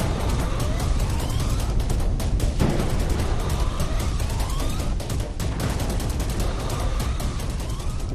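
Russian bombs strike near the Zaporizhzhia nuclear plant in Ukraine: rapid, dense gunfire and blasts crackle continuously at high loudness, with sharp percussive bursts layered over a heavy rumbling background.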